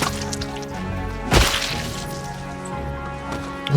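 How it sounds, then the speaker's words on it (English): Pistol whip melee strike in the zombie survival game Project Zomboid: a single sharp whack near the middle of the clip, loud and close, over steady in-game background noise. "Ah, pistol whip!"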